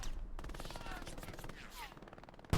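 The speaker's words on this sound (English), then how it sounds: "MG fire onto the area." Rapid bursts of machine gun fire rattle through a Hell Let Loose battle, a dense continuous stream of shots with overlapping gunfire, ending in a sharp louder blast.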